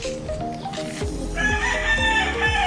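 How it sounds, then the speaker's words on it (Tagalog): A rooster crows loudly nearby in a long, drawn-out call, with other fowl calling alongside and no voices. "Ang manok."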